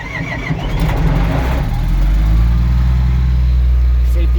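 A Komatsu D65EX bulldozer's diesel engine cranks and catches, then settles into a loud, steady, deep rumble up close.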